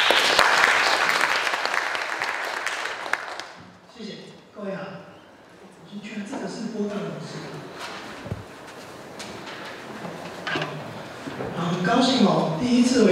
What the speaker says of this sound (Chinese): 让我们掌声欢迎财经理